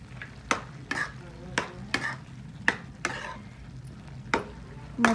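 Garlic tossed into a hot pan while cooking ridge gourd chutney sizzles softly, broken by several sharp scraping stirs of a spoon against the pan at irregular intervals.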